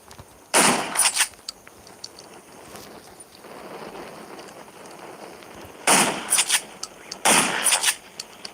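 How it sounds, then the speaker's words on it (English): Several bursts of sharp video game gunfire against zombies come in clusters, separated by quieter stretches with faint ambient noise in between. "Gunshots will attract more."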